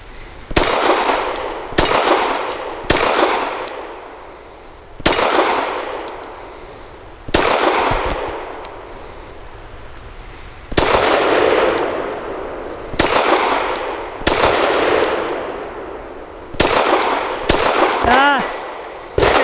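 Arex Delta X pistol shots fired at a moving steel target, a series of loud close bangs in quick bursts, each followed by a ringing metallic clang from the struck plate.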